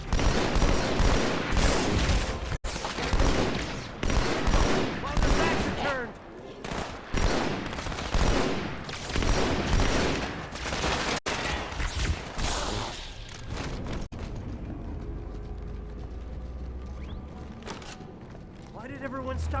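Rapid bursts of gunfire from several weapons in the video game Halo 2: Anniversary, loud and dense at first with machine-gun rattles, then thinning out to quieter sporadic shots over a low rumble.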